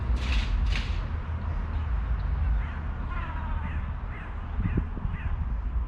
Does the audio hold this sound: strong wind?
no